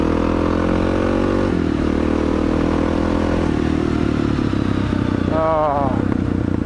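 A 650cc Suzuki DR650 dual-sport motorcycle fitted with a Screaming Demon aftermarket exhaust idles and revs close by, a loud, rumbling engine note with rising throttle blips and light crackle, while someone talks briefly over it.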